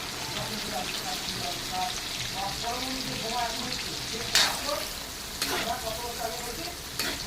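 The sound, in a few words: chopped onions frying with cinnamon and bay leaves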